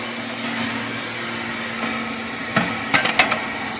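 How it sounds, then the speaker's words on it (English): A blower on an old wood-fired steam boiler runs with a steady, dense whooshing drone and a low hum. A few sharp metallic clanks come near the end. "The blower's working really good. Blower's right here. Probably hear it."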